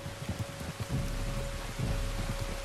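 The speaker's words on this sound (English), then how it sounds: "You were right about the damn rain." Steady, dense rain pours continuously in the video game Red Dead Redemption 2, with a low rumbling undertone throughout.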